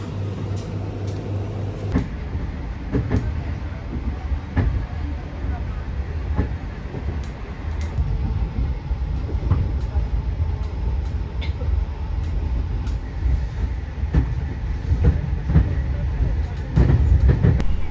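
A Majapahit economy passenger train rumbles past nearby in Indonesia with a steady, heavy roar and faint rhythmic clatter that swells toward the end.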